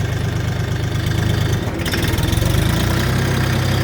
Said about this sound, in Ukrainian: Класний мотор